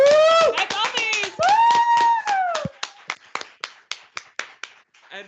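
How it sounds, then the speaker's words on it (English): Scattered applause from a back office at a closing ceremony, opening with voices cheering and whooping, then thinning into a handful of separate claps toward the end. "Another applause, maybe also from the back office."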